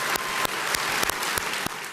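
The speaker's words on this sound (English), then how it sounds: "Let's give them another round of applause." Close, sharp, evenly spaced claps ring out at a steady beat as an audience applauds newly elected women legislators, the nearest clapper dominating over a softer crowd.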